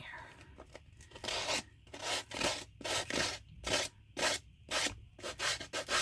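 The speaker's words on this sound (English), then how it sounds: "This is a sanding block." A sanding block rubs over paper in a series of quick, rasping strokes, close and fairly loud, coming in short rhythmic bursts separated by brief pauses.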